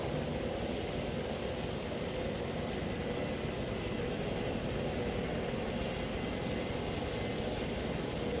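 A transport helicopter in the Arma 3 game spooling up its engine: a steady, droning turbine roar with a constant high whine on top, holding level throughout without pauses.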